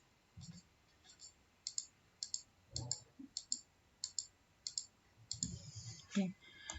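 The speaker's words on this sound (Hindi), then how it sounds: "अगेन मैंने ऑल्ट के साथ क्लिक किया एक सैंपल लेने के लिए" Mouse clicks while Alt-clicking to sample with Photoshop's clone stamp tool: a quick series of sharp, light clicks in pairs, fairly close and quiet, with soft speech murmuring between them.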